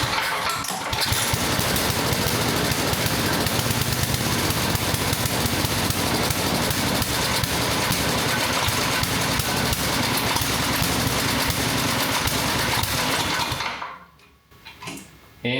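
A John Deere 1032 snowblower engine, fired up with full choke after a fuel problem was fixed, runs loud and steady with a rough, chattering idle for about thirteen seconds. Then it dies out and sputters briefly.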